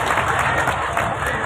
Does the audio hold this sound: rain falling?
no